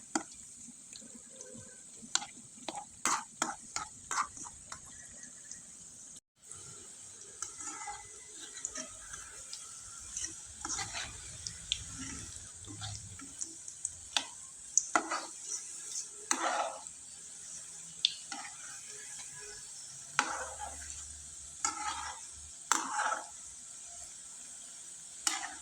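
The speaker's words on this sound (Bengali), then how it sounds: "পিঠাটা একটু সময় নিয়ে একবারে মুচমুচে করে ভেজে নিলাম" Coconut pitha deep-frying in oil until crisp gives a soft, steady hiss dotted with many small crackles and pops throughout, fairly quiet and without any voices.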